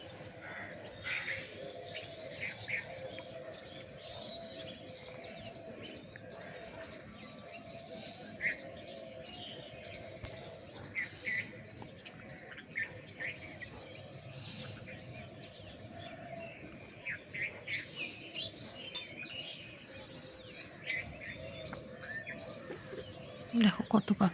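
Birds chirping at dawn outdoors near a coconut tree, including doves, scattered faint tweets and calls over a soft ambient background, with quiet talk running through.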